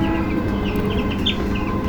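Clucks and cheeps from a nine-day-old broiler chick being picked up by hand on a farm, close and steady over a dense backdrop of flock chatter.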